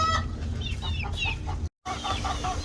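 Several chickens cluck and murmur close by in a warm coop, a busy overlapping chatter over a low rumbling background, with a brief dropout partway through.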